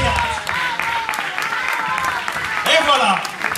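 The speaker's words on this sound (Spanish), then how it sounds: "Aplauso para Olga" An audience at a telepathy stage show applauds steadily, a close, dense clatter of many hands running the whole time, with a host's voice talking over it.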